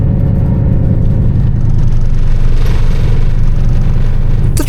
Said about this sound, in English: The train rattles a little as we cross the network of points on leaving the station, and the glorious sound of the diesel engine kicks into action.